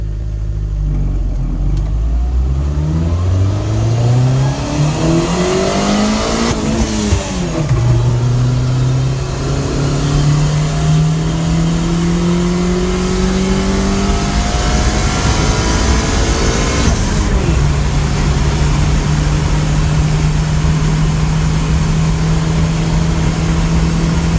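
A turbocharged car with a wastegate fire ring runs a launch control pull, its engine climbing in pitch under load, dropping briefly at a shift, then holding a steady high drone, loud and continuous throughout.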